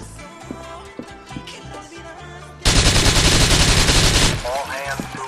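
A loud, close burst of sustained automatic gunfire erupts during a street shootout in GTA IV, lasting under two seconds before easing off, with scattered sharper shots and game sounds before it.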